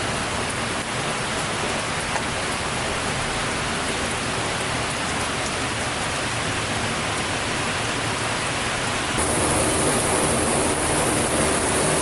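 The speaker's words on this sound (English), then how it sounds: "It's raining again." Steady rain pours down outside, a dense, even hiss with no pauses, growing slightly louder and brighter near the end.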